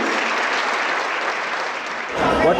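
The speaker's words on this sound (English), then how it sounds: "Another round of applause, folks." Awards-ceremony audience applauding motorcycle champions on stage, a dense, loud wash of clapping that runs steadily, then swells slightly near the end.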